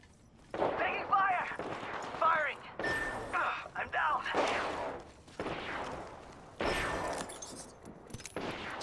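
Repeated gunfire bursts in Apex Legends, sharp shots and short volleys separated by brief gaps, close and loud, with voices talking over parts of the action.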